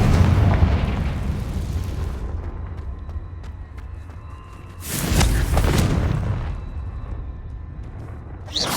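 Confringo blasting-curse explosions in the video game Hogwarts Legacy: a heavy booming blast rumbles and fades, then a second sharp, loud burst erupts about halfway through before tailing off.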